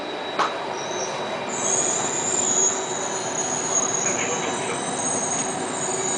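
A Singapore MRT Circle Line train running, with a loud steady rumble, a high whining tone and a prolonged metallic wheel squeal rising partway through, heard from inside or close by, and a voice briefly audible.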